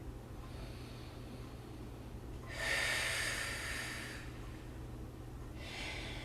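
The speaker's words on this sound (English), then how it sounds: "Let's do one more really good exhale here." One long, deep exhale through the nose and mouth during a strength flow workout with weights and a glider, a breathy rush that swells and fades over about two seconds, followed by a fainter second breath, close and quiet.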